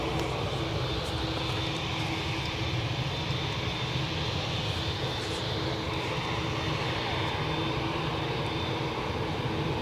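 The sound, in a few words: CRJ 900 jet aircraft at Newcastle airport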